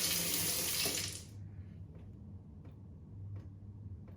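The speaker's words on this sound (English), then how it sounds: "we are now ready to test the faucet" Water from a newly repaired faucet rushes loudly for about a second, then cuts off, leaving faint drips and quiet room noise.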